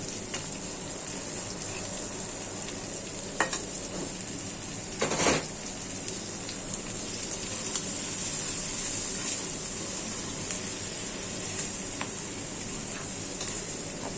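Turmeric, chili powder, ginger-garlic paste, salt and green chilies added to prawns frying in a pan, giving a steady close hiss and sizzle throughout with a brief clatter near the middle and no talk.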